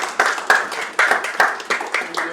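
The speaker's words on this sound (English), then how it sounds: "Let's give a round of applause for Star." Scattered, uneven clapping from a small audience at a snooker exhibition, a handful of distinct hand claps in a loose, irregular rhythm, fairly close and brief.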